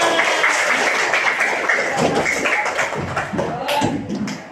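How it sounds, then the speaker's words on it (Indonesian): Classroom applause from a group of students, scattered clapping mixed with voices and chatter, fairly loud and continuous before tapering off near the end. "tepuk tangan untuk kita semua"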